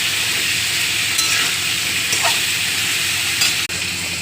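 Onion sizzles in a pan with capsicum, beans and potato for a rohu fish curry, a loud continuous frying hiss with occasional stirring scrapes and a sharp clack near the end.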